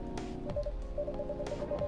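Short electronic phone dialing beeps from the video game Coffee Talk sound in a quick run of evenly spaced tones over soft background music.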